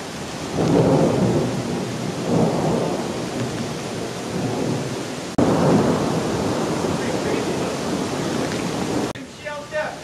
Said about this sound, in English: We're hearing some thunder.